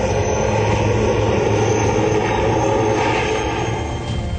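An Indian light combat helicopter in flight gives off a loud, constant engine and rotor roar that fills the whole clip without a break and eases off only slightly at the end.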